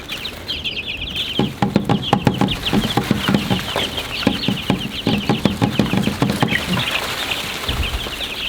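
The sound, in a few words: flock of chickens clucking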